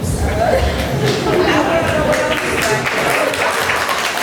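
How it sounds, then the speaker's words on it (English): Wedding guests at a reception clap for the groom after a toast, a loud, dense round of applause mixed with crowd chatter and talking throughout. "Give him a big round of applause"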